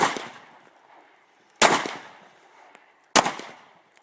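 Three sharp handgun shots at an outdoor shooting range, spaced about a second and a half apart, each a loud crack followed by a short decaying echo, with quiet between.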